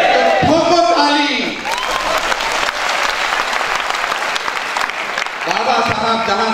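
Audience applause breaks out during a fiery political speech, a dense, loud wash of clapping filling the room, with a voice shouting over the start and end.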